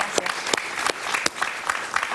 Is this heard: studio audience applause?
yes